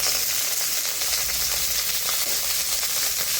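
Coriander roasting in a pan in a rustic village kitchen, giving a loud, steady sizzle with crackling and occasional stirring, broad and continuous from start to end with no voices.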